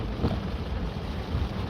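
Steady, dense rain falls without pause, a rushing wash of noise with low rumbling underneath, close and continuous, with no voices.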